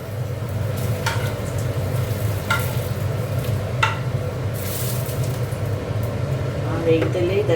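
Bay leaf, dried chilli, radhuni and fenugreek tempering in hot oil, a continuous moderate sizzle with occasional utensil scrapes and stirring, a voice talking over it.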